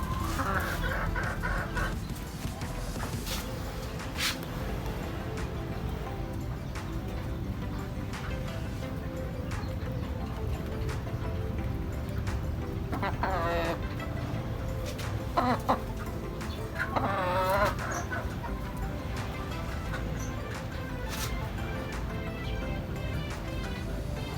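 Chickens kept on a rooftop cluck steadily and nearby, with occasional louder calls and a crowing rooster standing out over constant background noise.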